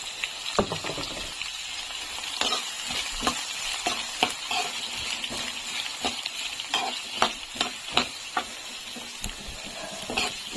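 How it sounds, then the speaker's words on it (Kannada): Finely chopped onions fry in oil with a continuous crackling sizzle. Frequent sharp stirring scrapes and clicks sound up close, with no voices. "ಈರುಳ್ಳಿ ಚೆನ್ನಾಗಿ ಫ್ರೈ ಆಗಬೇಕು."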